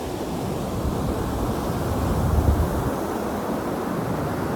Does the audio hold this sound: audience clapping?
no